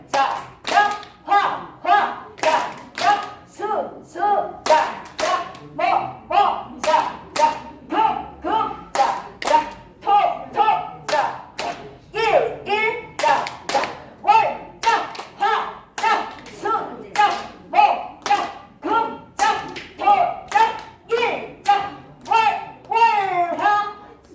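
Brisk, steady hand clapping from a group doing a weekday clap routine in a seniors' exercise class, with a voice talking or chanting throughout over the rhythmic claps.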